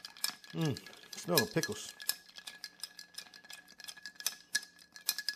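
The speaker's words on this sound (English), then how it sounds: "Stir it till it gets good and chilled" A pickle-juice martini is stirred with ice, a quick run of bright clinks and rattles against the glass, close and steady, with a person speaking briefly near the start.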